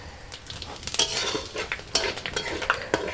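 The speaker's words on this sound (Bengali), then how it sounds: "খুব ভালো করে কিন্তু ভেজে নিতে হবে, আর শুকনো লঙ্কাটা যেন খুব ভালোভাবে ভাজা হয়।" Dried red chilies, panch phoron and cumin crackle and sizzle in hot mustard oil, with quick scraping stirs and light clinks of a utensil against the pan over a few seconds.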